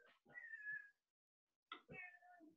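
A house cat meows twice, close and clear, with drawn-out cries and a short silent gap between them in a quiet kitchen.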